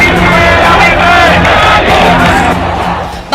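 A huge protest crowd of Hindus demanding justice in the streets of a Bangladeshi city roars and shouts continuously, a loud sustained mass of voices that eases slightly toward the end.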